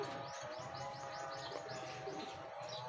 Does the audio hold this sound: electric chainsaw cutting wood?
no